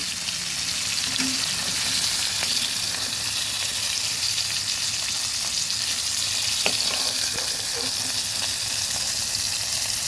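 Koi fish frying in hot oil in a pan, a steady dense sizzle running continuously throughout with faint occasional clinks and stirring sounds, no talking.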